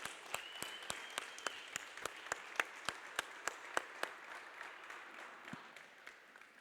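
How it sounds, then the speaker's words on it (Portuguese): A church congregation at a Sunday service claps together in a slow, steady rhythm of sharp, distinct hand claps that gradually thin and fade toward the end, with no talk over them. "Salva de palmas para Jesus."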